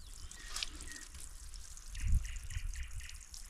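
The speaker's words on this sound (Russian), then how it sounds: "Вот такой родник. Ух ты, какая прям вообще ледяная вода." Icy spring water trickles and drips steadily from a source at a roadside spring near Vysokovsk in the Moscow region, heard close and moderately loud with small splashes, with no one speaking.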